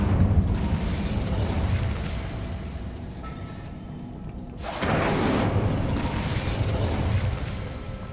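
An Incendio fire spell is cast in Hogwarts Legacy, with a bursting whoosh of flame that erupts mid-clip over a rumbling game background, no speech.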